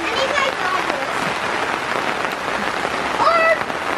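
Rain pours down in a dense, steady patter onto a pool, with voices speaking intermittently over it.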